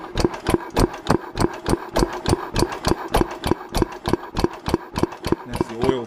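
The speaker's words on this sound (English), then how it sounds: "You can hear the one-way valve going in here." A vintage stationary engine runs with its one-way valve audible, producing a steady, fast train of sharp rhythmic clicks and pulses over a low mechanical hum, close and moderately loud.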